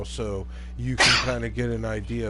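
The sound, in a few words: sneeze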